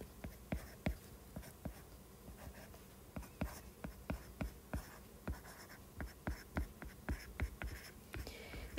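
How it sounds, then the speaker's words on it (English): Pen or marker writing on a surface, close and quiet, a series of short scratchy strokes and taps in irregular bursts during a math lesson, with no speech. "let me finish writing this."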